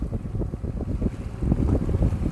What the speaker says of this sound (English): The wind's blowing pretty hard, but the waves are small.